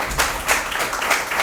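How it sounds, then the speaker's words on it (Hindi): A crowd applauds at an award ceremony honouring flood relief workers, a brief burst of dense clapping with a few swells. "बहुत ज़्यादा काम किया जी अल खिदमत ने और इनके लिए बहुत सारी तालियां"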